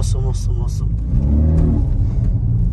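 A 2019 Toyota Supra with a 2000cc turbo engine revs with a steady, loud rumbling drone throughout, overlapping talk near the start.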